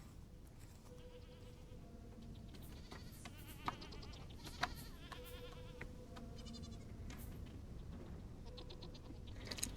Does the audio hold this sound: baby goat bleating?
yes